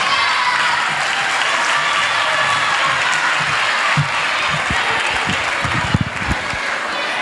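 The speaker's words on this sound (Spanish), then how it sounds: "Un aplauso para Cristiana." Sustained audience applause at a Christmas karaoke night for a singer about to perform, steady broadband clapping throughout with a few louder claps near the end.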